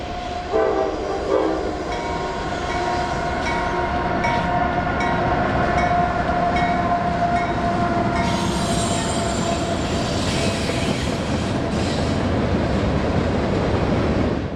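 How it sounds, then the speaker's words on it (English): A freight train led by a GE AC44C6M and a Dash 9 locomotive crosses a creek bridge under old catenary poles on a spring morning. It gives a loud, steady rumble of engines and rolling wagons, with drawn-out tonal horn notes and no voices. "AC-44C6M and a Dash 9 that will someday be rebuilt into one lead the train over Peckway Creek and under some remaining catenary poles."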